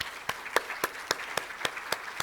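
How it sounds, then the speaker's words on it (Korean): Slow, rhythmic clapping in a church service, about eight distinct claps spaced evenly over two seconds, fairly faint and close, with no talking over it. "박수 한번."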